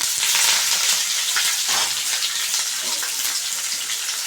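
Onion, chillies and curry leaves frying with mustard seeds for cabbage curry, a loud, dense continuous sizzle and crackle throughout.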